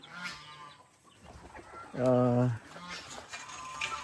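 A chicken gives a loud, drawn-out cluck or squawk near the middle, with quieter farmyard bird calls and background noise around it.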